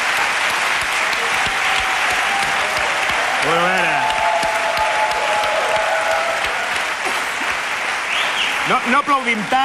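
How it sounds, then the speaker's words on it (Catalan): Audience applause at the 2004 Andorran national song contest final, a loud, steady clapping crowd throughout, with a voice talking over it near the start and end. "No aplaudim tant, no aplaudim tant"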